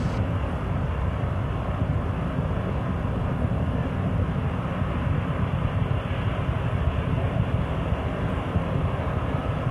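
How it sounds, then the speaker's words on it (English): Main engines of Space Shuttle Endeavour on the STS-100 launch, throttling back up to full power. A dense, steady, loud rumbling roar fills the whole clip without a break. "Three engines are now throttling back up to full throttle."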